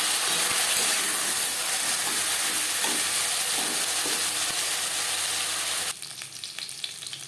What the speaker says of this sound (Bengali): 10-15 সেকেন্ড জিরে ভেজে নেওয়ার পর দিয়ে দেবো কাঁচকলা।